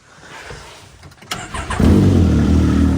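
Can-Am X3 with a small turbo and Trail exhaust starting up and settling into a loud, close, steady idle with a deep rumble after a brief catch and crank.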